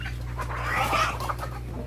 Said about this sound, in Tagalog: Elmer, pakainin mo na yung mga alaga nating manok